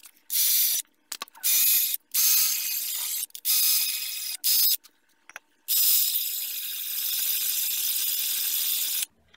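A hand ratchet is cranked to install ARP extended wheel studs on a 2005 Pontiac GTO during a Brembo brake upgrade. It gives loud, close bursts of rapid clicking separated by short pauses, then one longer stretch of clicking.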